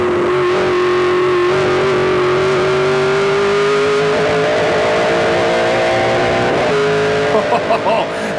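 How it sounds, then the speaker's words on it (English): A Ford Fusion stock car engine at the 2008 Edmonton 100 race climbs steadily in pitch at high RPM, loud and continuous while a commentator talks over it. "Twists up that Ford Fusion motor."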